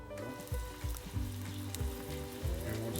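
Gyro meat mixture frying in a pan, a small test piece giving a steady sizzle with soft crackles and pops throughout, close and fairly quiet, with no voices.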